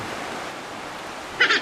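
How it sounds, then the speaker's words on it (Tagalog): Ocean surf at Sabang Beach, a popular surfing spot, heard as a soft continuous wash of waves with a brief louder splash near the end, alone. "Kaso ang naririnig nila yung hampas ng hangin."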